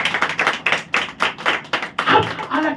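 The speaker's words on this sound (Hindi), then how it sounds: "ताली बजाओ।" A congregation claps hands together at a church service, a run of sharp, fairly even claps with some irregular bursts of noise between them.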